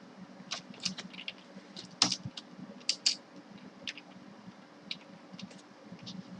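Light clicks of a computer keyboard as code is typed, coming in short irregular bursts with small pauses, soft and close in a quiet room, with no talk.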